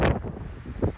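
Strong coastal wind in Sicily buffeting a microphone in loud, rumbling gusts, heard up close and alone over about a second.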